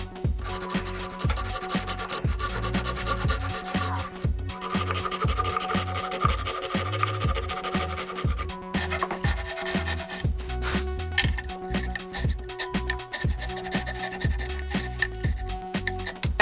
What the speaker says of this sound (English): Now we're gonna saw them off.